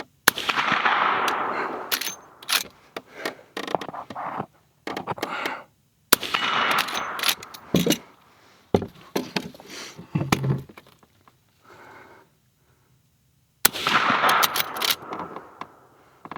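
A Henry X .357 lever-action rifle fired outdoors at a target: a few sharp, loud reports spaced seconds apart, separated by bursts of rustling and handling noise and stretches of near silence.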